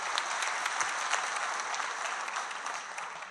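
Audience applause at an Urdu mushaira poetry recital in Warud, a steady wash of many hands clapping close by, moderately loud and continuous with no talk.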